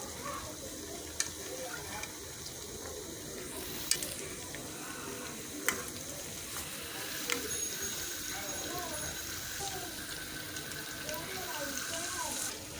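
Onion fritters (peyaju) frying in a pan with a steady broadband sizzle throughout, a few sharp clicks and taps of utensils, and faint speech in the background.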